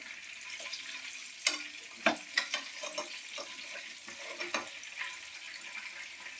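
KFC-style chicken pieces frying in hot oil, a continuous bubbling sizzle with clustered crackles and pops rising and falling over several seconds, heard close up without any voices.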